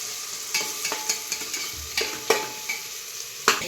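Spiced rice pulao with vegetables being sautéed in a pan, a soft continuous sizzle broken by repeated scraping stirs of a spoon, close up and without speech.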